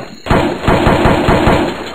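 Mossberg shotgun firing in a video game, a rapid burst of about eight to ten close, loud booming shots in quick succession over a high electronic whine.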